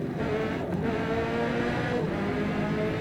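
A race car engine in Forza Motorsport at the Mugello circuit, droning steadily and loudly with shifting pitch as it drives around the track, with no talk over it.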